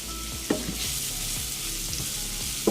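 Sausage and flour sizzle steadily in a pan as they are stirred together into a roux for sausage gravy, a constant close frying hiss with a few soft spoon scrapes and clicks.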